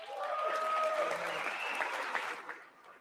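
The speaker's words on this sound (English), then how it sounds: "I wasn't sure if anybody even on this side was going to applaud for that" Applause fills a large chamber in Congress during the State of the Union, with a dense, sustained round of clapping from many people that tapers off after a few seconds.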